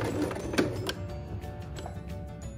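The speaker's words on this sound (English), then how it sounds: "don't forget to make good reverse stitching." A sewing machine runs a short reverse stitch while sewing a one-layer fabric face mask for kids, giving a steady mechanical whirr with rapid needle ticks, fairly close and quiet, with no talking.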